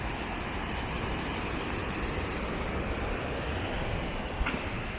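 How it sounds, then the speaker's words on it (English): Water rushes steadily over Great Falls, a dense, unbroken roar that stays even throughout. "The water looks like it's running over a little bit."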